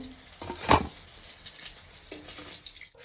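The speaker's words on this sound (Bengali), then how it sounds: "বাকি মাছগুলো ভেজে নিই" Fish frying in a pan gives off a steady, close sizzle and hiss, with a brief louder crackling burst early on and no one talking.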